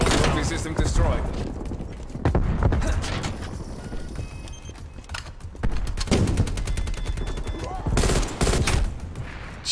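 Game gunfire from Call of Duty: Black Ops Cold War multiplayer, with repeated loud bursts and volleys in dense clusters throughout, set against a busy mix of battle noise.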